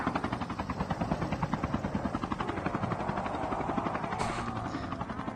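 Helicopter lifting off in Call of Duty: Mobile, a loud, steady rotor thump with rapid regular beats and an engine whine underneath, continuous throughout with no talking.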